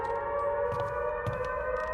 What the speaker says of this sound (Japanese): この音、アメリカのサンダーボルト1003というサイレンに似ていますね。